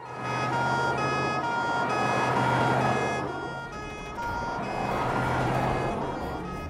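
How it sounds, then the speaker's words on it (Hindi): An ambulance siren wails continuously with a rising and falling tone, fairly loud and nearby, over low vehicle rumble, with no talking. "लगता है भाई कोई टपक गया है, एम्बुलेंस आई है।"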